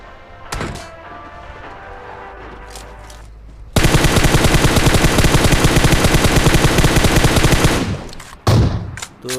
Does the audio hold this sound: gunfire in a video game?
yes